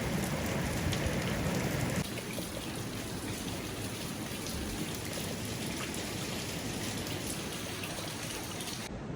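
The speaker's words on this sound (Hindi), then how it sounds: "देख रहे हो बहुत तेज़ बारिश हो रही है" Heavy winter rain pours steadily in a dense, constant hiss, close and loud, with no voices.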